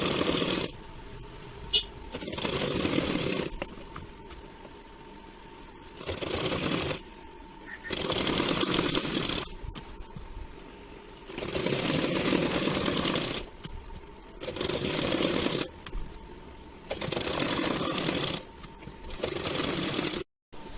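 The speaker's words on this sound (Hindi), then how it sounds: "आप वहां से किनारे किनारे आप सिलाई कर सकते हैं" A sewing machine stitches along the lining edge of a princess-cut blouse in repeated bursts of a few seconds each, separated by quieter pauses where someone speaks.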